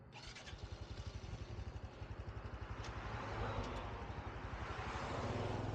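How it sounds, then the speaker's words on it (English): Honda Trail 125 motorcycle engine running at night, a steady rhythmic thumping single-cylinder putter close by, rising slightly in pace and loudness toward the end, with no voices. "Tonight I'm going to be taking the Honda Trail 125 out for a night ride."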